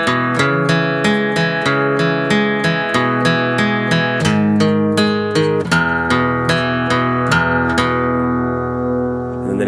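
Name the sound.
guitar playing a barred chord part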